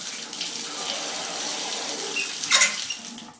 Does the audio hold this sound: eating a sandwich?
no